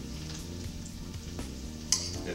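A steak sizzling in a pan, with a steady close fry hiss running throughout and a brief sharp clink of cookware near the end, with no talking.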